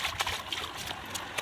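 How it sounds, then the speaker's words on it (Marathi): Rainwater flows and spills over during heavy rain, a soft, continuous trickling and gurgling rush with small splashes, moderately close and fairly quiet. "पाणी उलटत आहे इकडून"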